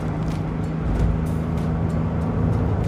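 An Alpine GTA car engine drones steadily while driving, a low continuous rumble heard from inside the cabin with road and wind noise, fairly loud and with no talk.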